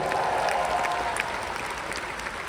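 Audience at a motivational talk claps steadily and fairly close, a full wash of hands that eases off slightly toward the end, with no one speaking over it.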